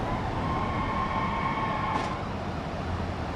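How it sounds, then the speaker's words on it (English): Police sirens in the BeamNG driving game, a steady wailing tone holding over continuous traffic and engine noise, moderately loud and without speech. "Oh, I can hear the sirens."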